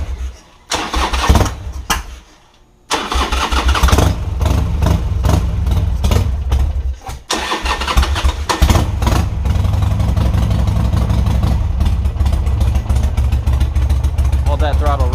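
A 2005 Harley-Davidson Sportster engine cranks with a couple of false starts and short pauses, then catches and settles into a loud, steady, rumbling idle close by, with people talking over it.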